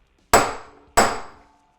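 Two sharp, loud hammer taps on the rear wheel hub of a 1993 Honda CR250 dirt bike during a hub rebuild, each strike ringing briefly before decaying, spaced about two-thirds of a second apart with no talk.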